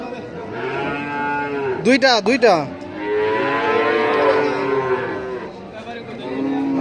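Cattle moo loudly and close by at a busy village livestock market in Bangladesh, with several drawn-out calls and a quick burst of calls. Buyers and sellers talk in the background.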